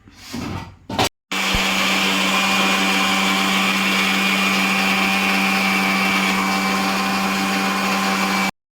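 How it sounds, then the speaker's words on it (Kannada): A mixer grinder runs loud and close as it grinds masala for chicken, a steady high motor whine after a short start-up burst and pause, cutting off abruptly at the end. "ಈಗ ಮಿಕ್ಸಿ ಮಾಡ್ಕೋಬೇಕು"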